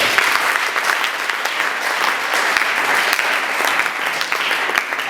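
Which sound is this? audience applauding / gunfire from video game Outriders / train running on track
audience applauding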